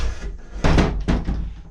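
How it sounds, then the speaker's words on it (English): A heavy steel door in a prepper house is pulled shut by a cord, giving a loud near slam followed by a second thudding clank as it seats, with a rumbling scrape before it. "You'd pull this door shut."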